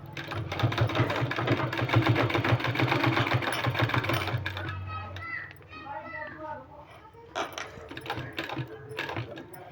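A sewing machine stitches a sleeve in a steady, fast rattling run for about five seconds, then stops; someone speaks over and after it while children's voices carry faintly in the background.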